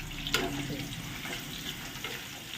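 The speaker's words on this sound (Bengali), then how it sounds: "মিহি করে কেটেছি, তো পুরো পেঁয়াজটা কিন্তু তেলেতে দিয়ে দিচ্ছি।" Chopped onion frying in ghee for spicy chicken kanti, a steady close sizzle with a brief clatter near the start and faint stirring throughout, no talking.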